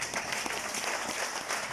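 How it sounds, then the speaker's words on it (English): Audience at a school prefects' investiture applauding, a brief burst of dense clapping heard at moderate distance, with a voice faintly present beneath it. "Give yourself a clap."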